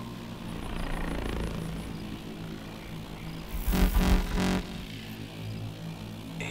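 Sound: helicopter moving off in Call of Duty: Advanced Warfare, video game

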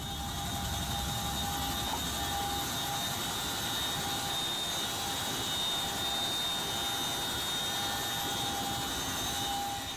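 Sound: twin-rotor military helicopter

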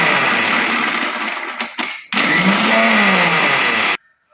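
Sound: mixer grinder grinding coriander and cumin

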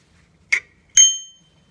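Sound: folding bicycle bell with compass ringing

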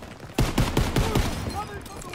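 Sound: gunfire in video game Call of Duty WW2

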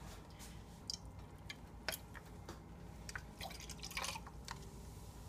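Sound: pouring spring water into garbanzo bean flour batter

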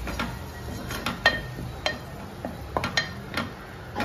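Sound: stirring prawn gravy masala in a pan

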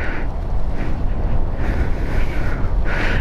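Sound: wind blowing during a motorcycle ride, storm approaching

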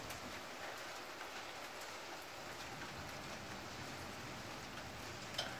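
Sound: rain falling outside

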